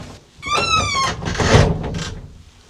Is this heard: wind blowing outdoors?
no